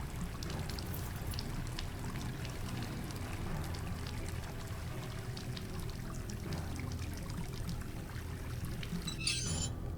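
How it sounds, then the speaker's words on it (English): Clean water flows steadily in a game scene set in an asylum, a continuous pouring trickle at moderate level with a brief brighter splash near the end and no talking. "There's a steady flow of clean water here."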